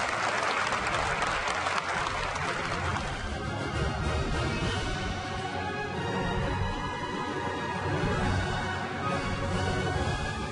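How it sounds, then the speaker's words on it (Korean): A large crowd applauds steadily and densely for the whole stretch, celebrating the first wafer produced on Samsung's Line 16, a 2011 memory-semiconductor production line, with the clapping loud and even throughout. "여러분 제1호 웨이파이 탄생에 많은 박수 부탁드리겠습니다."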